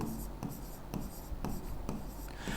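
Chalk or marker strokes on a board during a trigonometry lesson, a few short scratchy taps spaced out at a steady pace over a constant background hiss, with no talking.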